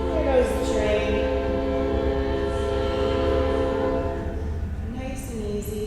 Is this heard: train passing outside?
yes